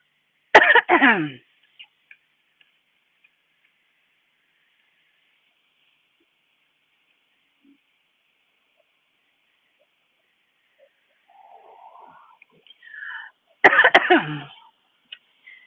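Two harsh, close coughs, one at the start and one near the end, separated by a long quiet stretch with faint rustling.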